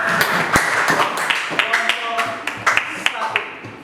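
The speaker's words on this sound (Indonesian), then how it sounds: "Tepuk tangan untuk kelompok 2" Students in a seventh-grade Catholic religion class clap for a group, a few seconds of uneven, close clapping mixed with talking.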